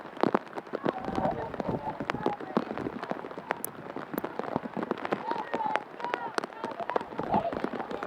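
Heavy rain pours down at an outdoor girls' varsity lacrosse game, a dense steady patter of drops hitting surfaces throughout while a play-by-play commentator talks over it.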